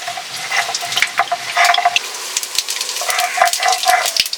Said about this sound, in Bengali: আমি এখন কড়াইতে তেল দিয়ে দিচ্ছি,